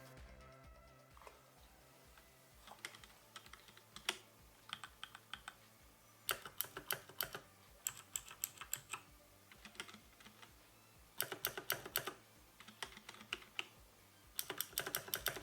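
HyperX Alloy Core keyboard typing in bursts of rapid clacking keystrokes, with short pauses between runs; close and fairly quiet, no voices.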